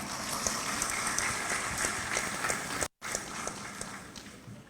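Scattered applause from an audience at a university graduation and professional oath ceremony, fairly faint and distant, individual claps audible in a loose patter with a brief gap partway through.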